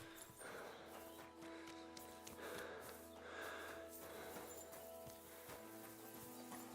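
Hoofbeats of a horse in a video game, a steady clip-clop running through the whole stretch at moderate distance with faint snorts, no talk over it.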